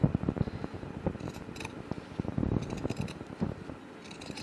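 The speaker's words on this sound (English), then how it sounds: "my pinking shears." Pinking shears snip through fabric for a crossbody bag, the short crisp cuts repeating close up in an uneven run with faint rustling between them.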